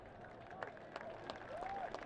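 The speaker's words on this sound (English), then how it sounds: "both gentlemen get a round of applause here from the fans at Highmark Stadium" Faint crowd applause from soccer fans at Highmark Stadium, a soft wash of clapping running under a commentator's voice.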